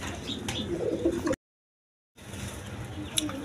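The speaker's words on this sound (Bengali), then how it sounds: "এখানে এক পেয়ার কবুতর আছে মিলি কালারের রেসার কবুতর" Racer pigeons of a mixed colour, kept in a pair at a pigeon sale, coo softly in low throaty bursts close by over a busy background murmur, broken by a short gap of silence.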